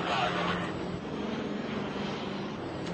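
Airliner engines roar at takeoff power in a broad, loud rumble heard from the cockpit, with a voice speaking over it.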